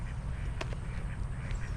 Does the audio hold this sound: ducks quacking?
yes